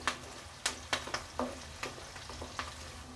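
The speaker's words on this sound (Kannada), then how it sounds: "ಈರುಳ್ಳಿ ಹಾಕ್ಕೊಂಡು ಈ ಥರ ಚೆನ್ನಾಗಿ ಫ್ರೈ ಮಾಡ್ಕೊಬೇಕು ನೋಡಿ." Thickly cut onions frying in oil in a pan, with a soft sizzle beneath a series of sharp spatula scrapes and taps, spaced irregularly and fading toward the end.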